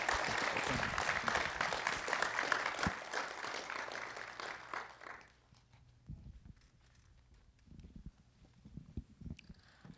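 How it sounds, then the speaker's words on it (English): Audience applause welcomes a speaker onto the stage at an evening call-to-action event: loud, dense clapping fills the room for about five seconds, then quickly dies away into quieter room noise with scattered movement. "If we could give her a round of applause."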